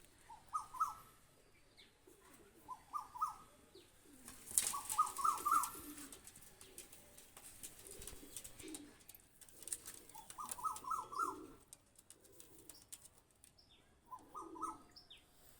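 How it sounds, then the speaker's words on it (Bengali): Two young golden high-flyer pigeons coo in soft repeated throaty phrases, faint and close, with a brief rustle of wing flapping near the middle. "কবুতার বাচ্চা দুইটা আমি ছেড়ে দেখাচ্ছি দেখেন"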